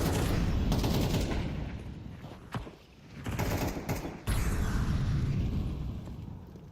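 Gunfire in a Counter-Strike match, with Scout sniper rifle shots among bursts of rapid weapon fire, loud and dense with a brief lull midway before sharp cracks resume.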